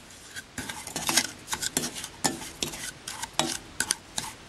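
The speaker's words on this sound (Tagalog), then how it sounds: "huwag nating titigilan ng paghalo dito para hindi siya masunog" Sugar cooks over low heat in a pan for flan syrup as a utensil stirs it, giving a string of close, uneven scraping and clinking strokes over a faint sizzle.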